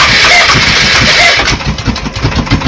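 A Polaris Sportsman 500 ATV, its filter doused with starter fluid, cranks with a loud, steady starter whir, then catches and runs with an uneven, pulsing chug, heard close up without talking.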